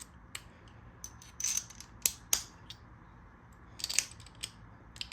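Metal sockets snapped back one by one into a plastic socket holder from a plumbing tool bag, giving a few sharp clicks and scrapes close by over a quiet background, with no talking.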